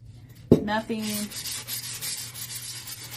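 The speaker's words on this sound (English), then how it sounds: "I will just give it a real light sanding." Gentle rubbing strokes of fine sandpaper lightly sanding a wooden lazy Susan, a soft repeated scratchy hiss after an initial tap, light and close.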